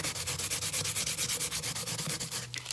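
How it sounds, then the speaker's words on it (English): Hand sanding smooths rough spots on a cup, producing fast, rhythmic back-and-forth rasping strokes, close and steady throughout with no talk. "So I want to see if I can sand that down just a little more."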